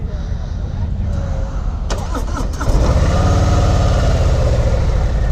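A 2018 Harley-Davidson Softail Slim engine cranks and fires up at close range, then settles into a loud, steady rumbling idle.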